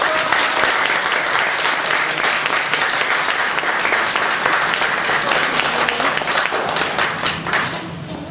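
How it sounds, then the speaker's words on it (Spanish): Loud, sustained applause from an audience, dense clapping that carries on throughout and tapers slightly at the end. "se llama Carlos, un aplauso por favor."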